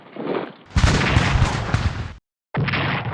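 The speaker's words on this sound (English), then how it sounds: "our defensive artillery is always quite impressive in my opinion" Artillery in a strategy video game fires in sharp bursts, with heavy booms and rattling volleys that cut off abruptly, then resume after a brief silence.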